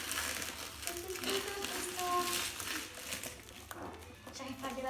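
Crinkling and tearing of wrapping paper as a Christmas present is opened at a Christmas Eve gathering, steady close rustling under ongoing talk and background voices.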